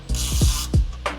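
A ratchet wrench tightens the bolts of a Legendex Molle tub rack on a truck bed, giving several quick clicking pulls with short bursts of pawl clicks and a few deep creaking thumps, close and clear.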